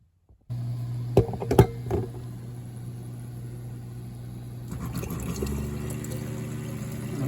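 Water runs steadily from a tap while coffee is being made on a cold morning: a sudden start, a few clinks early on, then a constant flowing hiss that carries on to the end.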